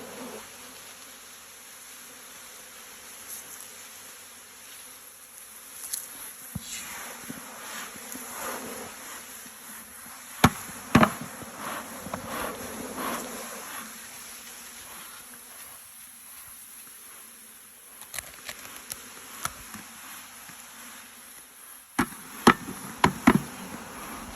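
Continuous buzzing of many honey bees, about 15,000 per package, fills the scene as they are transferred to a hive super, with occasional knocks and scraping handling noises rising above the drone.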